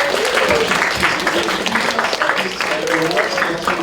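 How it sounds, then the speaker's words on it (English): Audience applause at a youth forum awards ceremony for Peter, the head moderator, a dense, steady clapping that fills the whole stretch at close range, with a voice faintly showing through. "a big applause for our great partner and friend, Peter, the head moderator"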